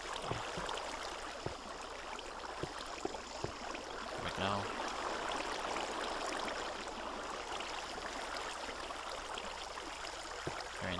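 Flowing water in Minecraft runs as a steady, moderately loud rushing stream, broken by a few soft clicks and taps.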